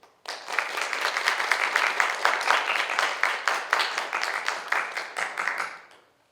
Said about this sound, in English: Let's give another round of applause to all our presenters today.